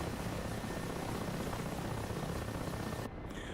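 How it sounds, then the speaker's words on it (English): Helicopter rotor and engine noise from a fully trimmed helicopter cruising at over 200 km/h in the DCS flight simulator, a steady loud roar that holds without a break, then drops abruptly and thins near the end. "I'm banging along at over 200 kilometers per hour here with a fully trimmed out helicopter, no hands"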